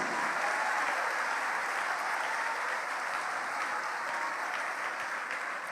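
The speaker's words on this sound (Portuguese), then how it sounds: "E vamos aplaudir mais ao nome de Jesus." A church congregation applauds steadily, a dense, even wash of many hands clapping that holds at the same level throughout with no break.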